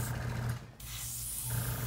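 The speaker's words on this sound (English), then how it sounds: "Now it's spraying nicely." An airbrush sprays paint, a soft close hiss of air that briefly dips and cuts out, then resumes steadily.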